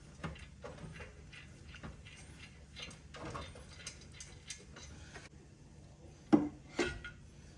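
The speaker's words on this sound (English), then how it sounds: "That was me just putting the compressor pipe on." A compressor pipe is fitted onto a ute's engine, making a run of close metallic clicks, knocks and ratcheting clatter, ending in two sharper clanks.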